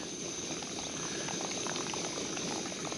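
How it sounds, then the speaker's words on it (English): Water boiling in a pot on a camp stove at a morning campsite, a steady close bubbling roar that runs unbroken for the whole stretch with no voices over it. "Boiling some water, boiled eggs, and a bit of bread for breakfast."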